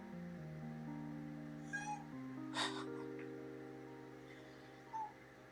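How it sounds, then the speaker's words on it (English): A cat meows and cries at a door, a few short plaintive calls rising over a steady low electronic hum, fairly faint and spaced apart. "there's a cat jumping at my door"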